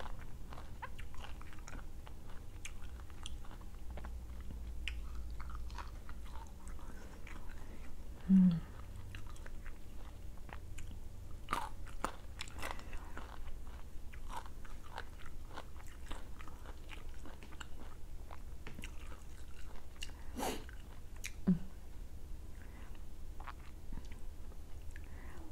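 Someone bites and chews mango dipped in sweet fish sauce, with soft, sparse crunches and mouth sounds close up in a quiet room.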